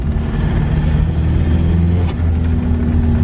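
A Toyota with a swapped TDI diesel engine revs and accelerates in a short burst, a loud close rumbling drone that holds steady throughout.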